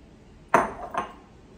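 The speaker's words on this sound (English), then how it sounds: "Scraping my fork." A fork scraping raisin bran muffin batter from a mixing bowl, two short close metallic scrapes and clinks in quick succession, with no talking.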